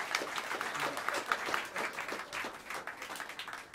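A small jazz club audience claps for a bass player, fairly quiet, steady hand claps with distinct individual claps that taper slightly toward the end.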